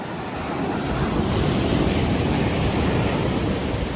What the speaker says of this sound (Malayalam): ഇവിടെ കടല് അടിച്ച് കയറി വരുന്ന നോക്കി